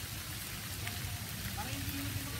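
Steady rain falls at a grape farm in La Union, a dense, even hiss of drops on surfaces, faint and continuous.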